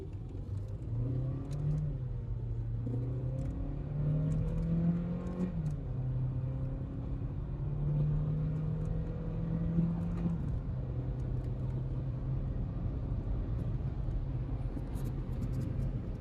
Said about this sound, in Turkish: şimdi DSG şanzımanımızı manuel aldık. De o şekilde hızlanmasına bakalım.